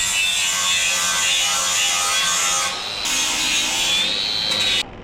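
An angle grinder cleans up a weld on steel, making a loud, sustained high-pitched whine with grinding noise that dips briefly midway and cuts off near the end, with no speech.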